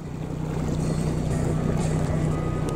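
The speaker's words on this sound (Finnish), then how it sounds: "sieltä tulee vene kovaa!" A motorboat speeds over open water on a Midsummer outing, its engine a loud, steady close-up drone layered with rushing water and wind noise throughout.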